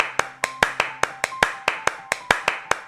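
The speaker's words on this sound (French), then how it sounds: "Applaudis jusqu'à ce que je te dise d'arrêter !" Steady rhythmic hand clapping, about five claps per second, each sharp and close, repeating evenly over a faint tonal background as in a children's story.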